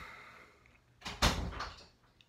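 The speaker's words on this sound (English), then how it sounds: "My bedroom door just closed." A bedroom door swings shut with a single clear thud and brief rattle, close by in a quiet indoor room, with no talking.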